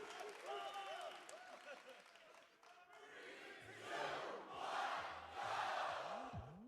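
A crowd at the Super Mario Maker 2 Invitational, an E3 gaming event, cheers and applauds in a loud rolling wave that swells and builds, mixed with an announcer's voice talking.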